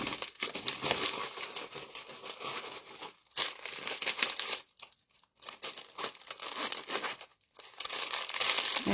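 Syringe packaging crinkles and rustles up close in repeated bursts as extra syringes are packed into a container, with a few short pauses between handfuls.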